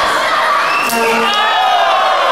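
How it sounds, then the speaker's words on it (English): The crowd at a PCW heavyweight championship cage match in professional wrestling roars and cheers loudly, with shouts and whoops that rise partway through this brief, packed burst of noise. "The crowd reacts and all."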